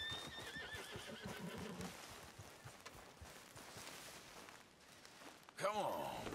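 Horse in Red Dead Redemption II lets out a loud whinny with a falling pitch, accompanied by clip-clopping hooves and busy game ambience, then a second sharp whinny close by near the end; someone talks over it.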